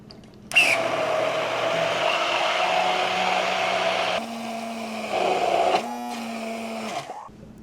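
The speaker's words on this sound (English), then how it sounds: "now we're just gonna use our immersion blender to blend it all smooth." An immersion blender whirs steadily at close range, blending a cottage cheese mixture smooth, its motor pitch shifting as it works, then briefly stops and starts again before cutting off.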